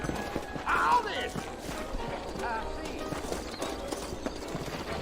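Horse hooves clip-clop at a steady walking pace in the Western game Red Dead Redemption, with a short whinny near the start and voices talking over the hoofbeats.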